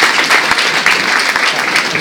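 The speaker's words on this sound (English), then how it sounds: "Please welcome her with a huge round of applause" Loud, dense applause from an audience welcoming a speaker to the stage, continuous clapping of many hands throughout, close and full.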